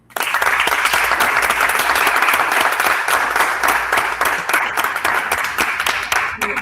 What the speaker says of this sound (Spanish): Démosle un aplauso a Catarina.